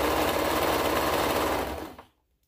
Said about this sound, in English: we will do the top stitching of the binding down with the sewing machine